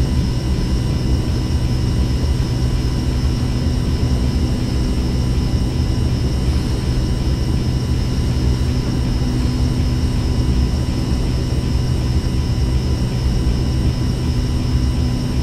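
Steady drone of a light aircraft engine cruising on autopilot in the X-Plane 11 flight simulator during a GTN 750 precision approach, a continuous even hum with constant tones and no voices.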